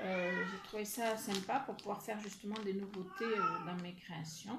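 A cat yowls and meows insistently while someone talks continuously over it, the cries blending with her voice close by.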